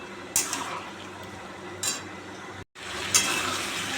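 Meat slow-fried kosha style in a pan at home, giving a steady soft sizzle with occasional scraping stir strokes and clinks of a utensil against the pan, one brief dropout midway.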